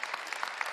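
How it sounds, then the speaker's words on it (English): Brief burst of clapping from a small gathering at a press conference, a quick uneven patter of individual claps, fairly faint and distant. "Let's give them another round of applause."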